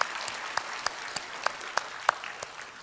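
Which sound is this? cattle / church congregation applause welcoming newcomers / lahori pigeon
church congregation applause welcoming newcomers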